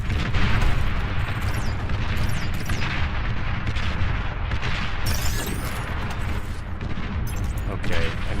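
Booming artillery fire from a T1 artillery piece in a war video game, heavy blasts and rolling gunfire filling the scene, dense and continuous with overlapping impacts.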